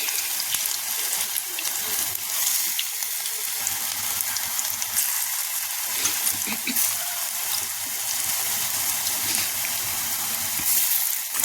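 Continuous crackling sizzle of food frying in hot oil, steady and fairly close, with no talking.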